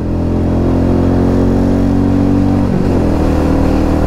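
A Royal Enfield Meteor 350 motorcycle engine drones steadily and close up on an open road, holding a loud, even hum with a brief shift midway as it pulls out to overtake.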